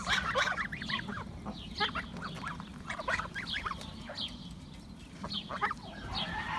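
Farm geese honk repeatedly in overlapping, nasal calls close by, with ducks quacking among them over a steady low rumble of background noise, no speech present.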